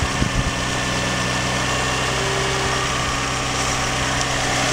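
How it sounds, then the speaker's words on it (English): A 2004 Nissan Stagea 350RX Four engine idles at an even, low rumble, steady and close, with a few light knocks at the start and no talking. "Run the engine for a few minutes, not enough for it to heat up hugely."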